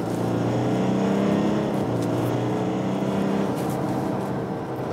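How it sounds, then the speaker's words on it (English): An Audi Q8 S-Line SUV accelerates from 70 to 100 km/h, heard from inside as a steady engine drone that rises slightly in pitch over road and wind noise, with no talking. "So now I'm going 70 kilometers an hour, and I'll accelerate to 100 again"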